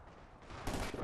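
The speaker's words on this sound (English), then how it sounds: "Shooting Germans in the back." Gunfire rattles through a brief battle scene in Company of Heroes 2, set at the Stalingrad rail station, as a steady wash of distant rifle and machine-gun fire thickens toward the end of the moment.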